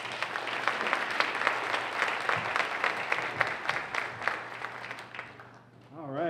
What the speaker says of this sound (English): I hope you'll give a big round of applause